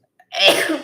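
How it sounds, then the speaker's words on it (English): A single sharp sneeze, close and loud, bursting out after a brief quiet intake. "I'm allowed as many sneezes as I want."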